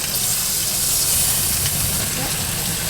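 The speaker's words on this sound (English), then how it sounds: "So we got the fish cooking." Fish sizzles steadily in a hot pan at an off-grid beach campsite, a continuous bright hiss of frying with no clear voices over it.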